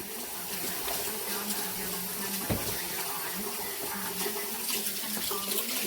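Tap water runs steadily into a kitchen sink to wet fingertips, a continuous close splashing flow with one brief knock partway through.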